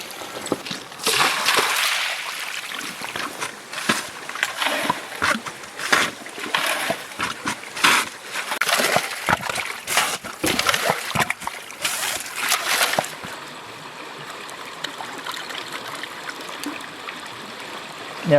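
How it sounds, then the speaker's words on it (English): Water splashes and streams steadily while a gold prospecting concentrator is washed out and brushed down, loud and continuous for most of the stretch before easing into a softer trickle. "we're just going to quickly wash this whole concentrator out, brush it down, yabby pump it up at the bottom"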